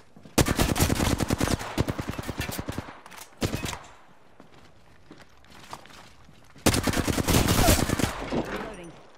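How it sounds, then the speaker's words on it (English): Automatic weapon fire in the video game Apex Legends: a long, loud, rapid burst, a short follow-up, a quiet pause with faint scuffling, then another sustained burst before trailing off. "Opening fire."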